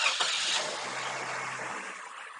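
A 1997 Jeep Cherokee with the 4.0L engine, which has a stalling and crank-no-start fault, turns over briefly. The cranking is close and fairly loud, a short whirring churn that fades after about two seconds, with no talking.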